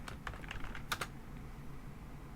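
Fingers tap on a computer keyboard while saving a LabVIEW VI with Ctrl+S and typing a file name: a quick burst of soft, close keystrokes, including two sharper presses, over a faint hum in a quiet room.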